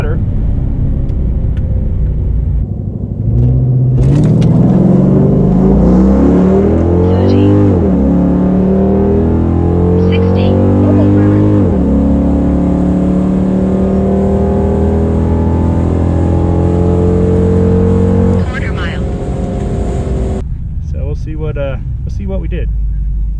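A 2006 Chrysler 300 SRT8 accelerates hard, its loud engine note rising through several gear changes over roughly fifteen seconds before easing off, with voices talking faintly under the engine.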